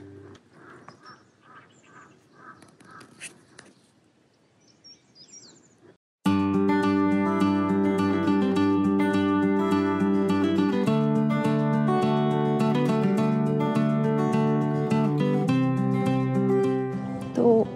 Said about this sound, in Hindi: आसपास सारी बर्ड्स चहचहा रही हैं।